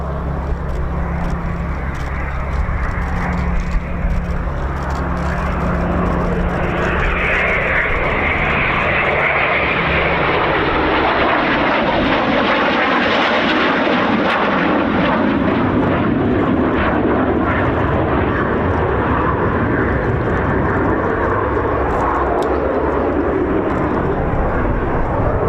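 A Eurofighter Typhoon performs a display at the RAF Cosford air show, its jet engine roaring loudly and sweeping as it passes close overhead, building to a peak midway and staying powerful to the end.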